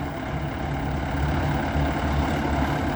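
A Kubota L1-345 34-horsepower compact tractor engine idles steadily with a low, even rumble, continuous and close, with no voices.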